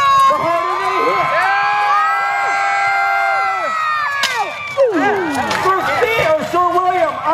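A crowd at a jousting show at a faire cheers and whoops loudly, many overlapping voices rising and falling, with shouting children and general hubbub building toward the end.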